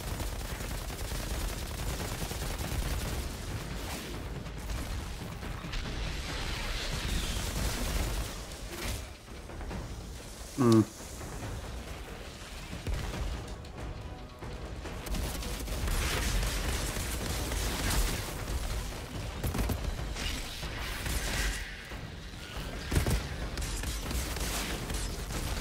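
Assault rifle fire in Outriders rattles in rapid bursts within a dense, continuous game mix of impacts and explosions. The level stays fairly steady throughout, and no one talks.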